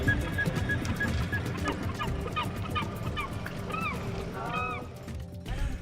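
Several bird calls, short honks and chirps, rise over a steady rumble of water or a motor, with a murmur of voices underneath, during lobster tagging off the east coast of Newfoundland.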